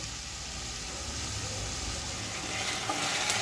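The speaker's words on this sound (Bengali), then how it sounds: "একসঙ্গে ভালো করে এটা তেলের মধ্যে ফ্রাই করে নেব।" Onions and spices frying in oil for a Bengali-style rohu fish curry, a steady close hiss and sizzle with soft stirring that grows slightly louder toward the end, no talking.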